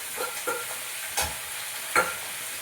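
Spice paste sizzles in a pan as it goes into the curry: a continuous soft frying hiss with four sharp stirring scrapes, close and clear, with no voices.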